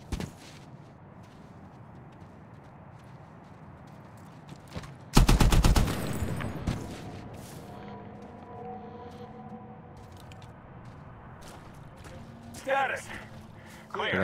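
A loud, close burst of rapid machine gun fire in the 2010 Medal of Honor game lasts about a second, followed by quieter ambience, distant shots and soldiers talking.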